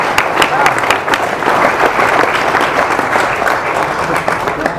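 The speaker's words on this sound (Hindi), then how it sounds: "भाई ताली बजानी तो जोर से बजाओ" Loud, dense applause from a crowd at a Hindi-language speech event, sustained and even throughout.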